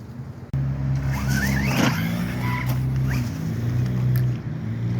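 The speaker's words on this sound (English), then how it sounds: "This is definitely a stunt truck." An Arrma Outcast 4S RC stunt truck drives close by. Its electric motor whines loud and high, the pitch shifting as it speeds up and slows, with tires scrubbing against the ground.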